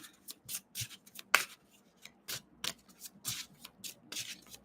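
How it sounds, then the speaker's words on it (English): Tarot cards being shuffled by hand in quick riffling bursts of papery rubbing and flicking, repeated in a steady rhythm, close and clear with no talking. "Oh, they're making me shuffle again."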